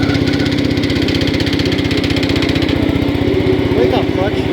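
A 1968 John Deere 110 lawn tractor, fitted with a front scoop and rear weight box, runs with a steady, even single-cylinder putter that stays loud and close the whole time.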